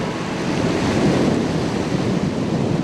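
Swift floodwater current from the 2011 Fargo-Moorhead flood rushes past in a loud, constant roar that may be mixed with wind buffeting the microphone, with no pauses or voices.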